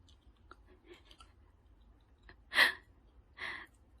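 A 21-month-old toddler chews cheese close by, soft wet mouth clicks early on followed by two louder bursts of smacking, crunchy chewing, otherwise quiet with no talking.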